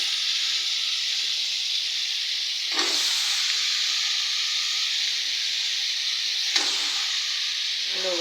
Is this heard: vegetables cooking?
yes